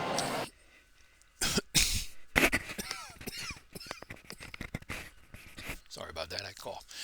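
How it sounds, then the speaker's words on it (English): A person coughs several times in sharp bursts with throat clearing, close to the microphone, amid a few other short noises and faint background sounds. "Sorry about that, I coughed here."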